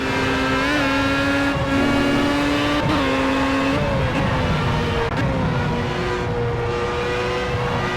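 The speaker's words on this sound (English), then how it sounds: "a little late on the brakes here, heading into Surtees, running very wide indeed, and Tom takes full advantage of that" Race cars brake and corner at Brands Hatch in the Project CARS video game, their engines a loud, continuous whine that shifts in pitch through downshifts and the corner, with no speech.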